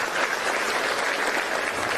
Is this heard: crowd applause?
yes